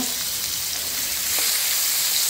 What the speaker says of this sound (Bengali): এখন আমি ডালে দেওয়ার জন্য কইটা একটু হালকা তেলে ভেজে নেব।